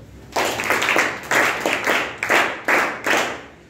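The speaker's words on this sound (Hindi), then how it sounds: "उसके लिए तालियां बजाओ।" Students in a village school classroom clap for a classmate in a rhythmic pattern, with about seven close, loud bursts of hand claps separated by short pauses.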